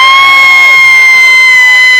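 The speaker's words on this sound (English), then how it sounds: "the crowd down below begins to cheer" An airshow crowd below cheers and whoops with children's shouts mixed in, a steady loud roar under sustained high whistling tones.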